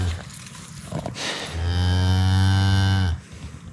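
A Highland cow on a pasture gives a single long, deep moo, loud and close, rising after a brief snort-like sound and lasting well over a second before breaking off into quiet outdoor ambience.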